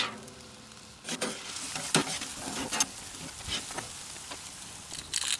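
Onion and mushrooms frying in a pan for wallaby san choy bow, a steady close sizzle broken by several sharp bursts and scraping stirs over about five seconds, with no talk.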